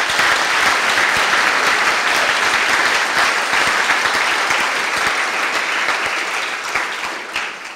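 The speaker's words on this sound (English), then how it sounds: "Please give them a hand." Graduation audience at a medical school ceremony giving a long round of applause, dense steady clapping from many hands that slowly tapers off toward the end, with no speech over it.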